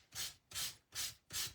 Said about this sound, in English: I have a nice old sanding block here. You can actually sand that too.